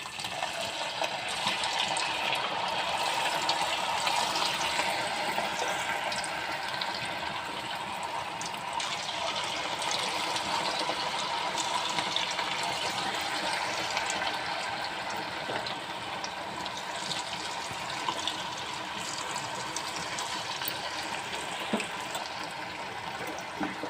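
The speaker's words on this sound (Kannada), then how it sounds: "ಈಗ ಇನ್ನೊಂದು ರೌಂಡು ಎಣ್ಣೆಲ್ಲ ಹಾಕಿ ಕರಿಯೋಣ" A second batch of bonda fritters fries in hot oil, a dense continuous bubbling and sizzling that stays steady and moderately loud throughout with no talking.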